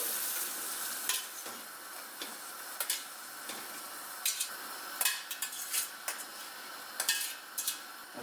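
Bok choy and other vegetables stir-frying in a pan over high heat in a home kitchen, a steady soft sizzle broken by intermittent scraping and clinking of a utensil against the pan.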